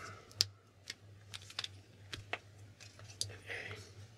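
Pen tapping and scratching out a letter on paper during a hangman board game, a quiet series of short, sharp clicks and strokes close to the ear, spaced irregularly over a low steady hum.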